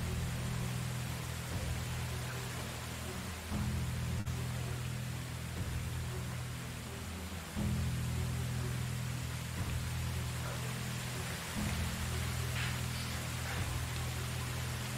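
Steady rain falls in the Medieval Dynasty game world, a constant even hiss over a low droning background, unbroken for the whole stretch with no voices.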